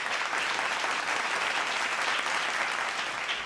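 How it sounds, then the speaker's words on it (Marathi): Loud, dense applause from a studio audience at a kirtan show, a steady wash of many hands clapping continuously without voices. "त्यांच्यासाठी जोरदार टाळ्या होऊन जाऊ दे"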